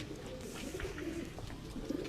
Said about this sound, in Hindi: ये मैं आपको कबूतर दिखाऊं जी